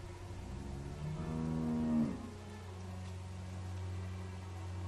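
A cow moos in the video game The Walking Dead, one long low bellow that rises and then cuts off, followed by a steady low hum of game ambience with no talking.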